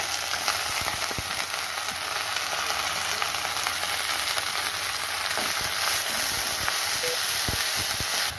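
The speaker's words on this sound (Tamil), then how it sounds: "வெங்காயம் நல்லா வதங்கிட்டு இருக்குங்க" Onions and green chillies sizzle in a frying pan for a moringa-flower egg stir-fry, a steady close, dense frying hiss throughout with a few faint clicks and stirs, no talk.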